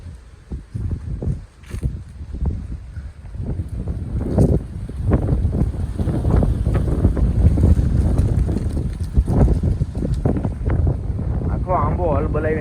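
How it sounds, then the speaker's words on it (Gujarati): Strong wind gusting through a mango tree on a farm, a loud roaring rush with heavy buffeting on the microphone that builds and stays strong throughout, while someone talks over it. "આ ઓછો પવન છે જોઈ લો"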